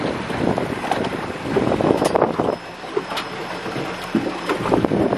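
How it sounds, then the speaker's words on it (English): Wind buffets a camera microphone out at sea on a marine research expedition, a steady broadband rumble with irregular gusty bursts running throughout, fairly loud and alone with no talking. "I'm pretty sure there's some wind blowing into your camera mic."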